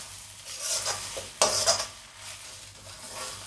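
Podi idli being stirred with ghee in a pan, with continuous spoon scraping and a light sizzle and a louder clatter of utensil on metal midway, heard close and alone.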